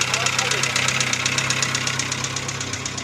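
A car engine running after a cylinder head replacement, a loud close rhythmic knocking tapping over a steady idle drone, continuing throughout.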